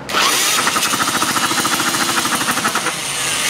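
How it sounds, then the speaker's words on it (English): A mini hog engine runs loud and close with a rapid pulsing chatter and a squeaking drive belt, steady throughout with no voices. "The belt is kind of squeaking too."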